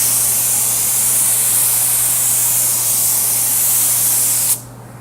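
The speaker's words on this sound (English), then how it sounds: "We spray at about 17 psi." Hydrographics activator sprays at about 17 psi, a loud steady airy hiss with a low hum beneath, cutting off abruptly near the end.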